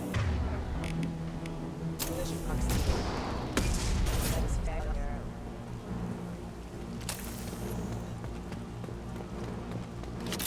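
Gunfire and combat noise from the sci-fi shooter Mass Effect 2, repeated shots and impacts layered over a dense, continuous battle din with game music, fairly loud throughout, voices heard in the mix.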